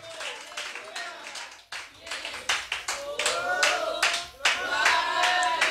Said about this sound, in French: Donnons des acclamations à Jésus.